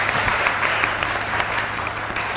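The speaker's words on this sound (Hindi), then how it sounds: "तालियां होनी चाहिए" A studio audience on a TV morning show claps in dense, sustained applause throughout, loud and continuous with no voices rising above it.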